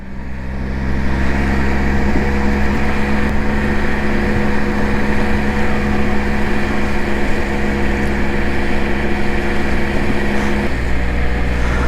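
A Can-Am Spyder three-wheel motorcycle runs along a snowy, sanded winter road, its engine giving a steady, loud droning hum with wind rush throughout, shifting slightly in pitch near the end.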